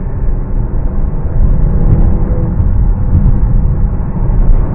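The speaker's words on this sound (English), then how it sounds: "Oh yeah, the engine turned on a lot quicker." Porsche Panamera E-Hybrid engine cutting in under light acceleration, a steady low rumble of engine and road noise holding at an even level throughout, with no voices.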